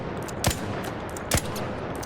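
Two separate gunshots from the Anvil weapon in ARC Raiders, each a sharp, fairly close blast with a short low thump, spaced under a second apart over a steady game background hum.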